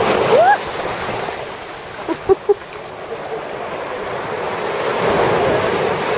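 Steady surf washing on the shore of a warm sea at Alanya, Turkey, with wind buffeting the microphone. A few faint distant calls and small splashes sound over the constant roar.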